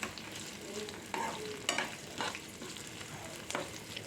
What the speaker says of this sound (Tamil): அது வரைக்கும் இதை வந்து நல்லா வதக்கிக்கலாம்.